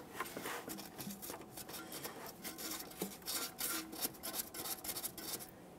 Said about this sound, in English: use a piece of fine sandpaper to clean up the mounting point.